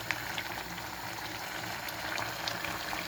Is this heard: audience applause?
no